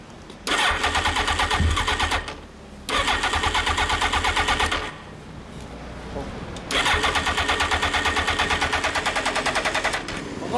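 A 2000 Suzuki GSX1300R Hayabusa with an Akrapovic exhaust cranks repeatedly in long rapid chattering bursts with pauses between attempts, loud and close, with people talking nearby.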